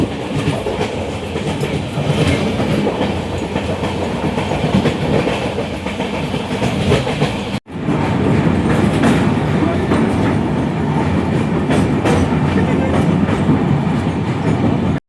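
Indian Railways passenger train rolling into New Jalpaiguri (NJP) station, heard from on board: loud continuous rumble and clickety-clack of wheels on rails, with a brief cut midway, no talk.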